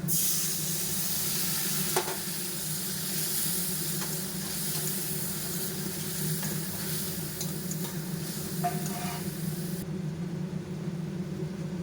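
Potatoes frying in a pan with salt, a continuous loud hiss and sizzle with occasional scrapes of stirring, steady throughout and dropping slightly near the end.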